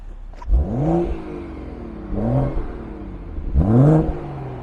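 Three sharp revs from a 2018 BMW M240i Convertible's turbocharged engine through its dual exhaust, each climbing in pitch and dropping back to a low idle between bursts.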